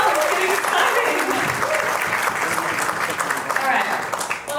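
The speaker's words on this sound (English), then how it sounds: "Come on, a round of applause." A crowd applauds loudly at a keynote unveiling a motorbike, a thick, sustained wash of clapping and cheering voices that holds steady and tapers slightly at the close.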